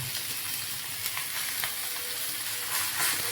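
Stuffed bombil, Bombay duck, frying steadily in oil in a pan at home, giving an even, close crackling sizzle with small pops, alone without talk.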